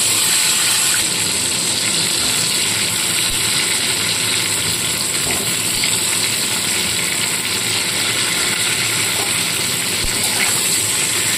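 Cauliflower pieces with a little turmeric frying in oil under a lid, giving off a loud, steady, hissing sizzle that holds evenly throughout with no break.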